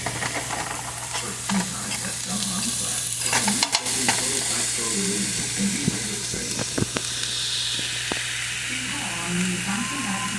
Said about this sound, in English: I'm gonna toss them around. Get them mixed in together.